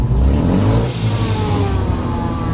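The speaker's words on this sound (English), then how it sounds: "that turns the supercharger on" The engine of a 1974 RT114 SR coupe barn find runs loudly nearby with its supercharger switched on; a high, steady whine rises over the rumble partway through and then cuts out.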